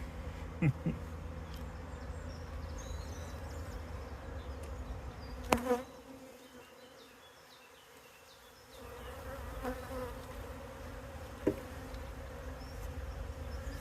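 Honey bees buzz around an open hive, a steady faint hum of many insects with individual bees droning past close by, dipping quieter for a couple of seconds midway before the swarm sound returns.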